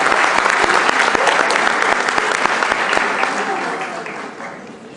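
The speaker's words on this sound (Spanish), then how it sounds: "Y yo les pido que le demos un fuerte aplauso." A crowd claps steadily and loudly, a full round of applause that slowly fades toward the end.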